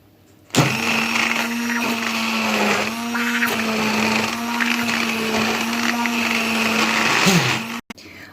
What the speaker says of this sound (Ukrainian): беремо ось такий погружний блендер і гарненько все перебиваємо